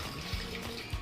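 Water poured in a short, faint trickle into a juicer jar, with no voices.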